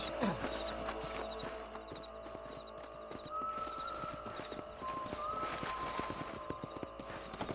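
Horse hooves clip-clop steadily on a ranch in Red Dead Redemption, a quick, even rhythm of close, distinct hoofbeats with a short whinny early on and a faint tonal background underneath.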